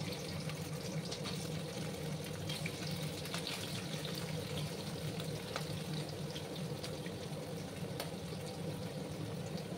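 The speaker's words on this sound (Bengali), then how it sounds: "এবার আমি প্রথমে পনিরগুলোকে ভেজে নেব।" Paneer pieces frying in hot white oil in a wok, giving a steady, even sizzle that holds at a moderate level throughout with no voices.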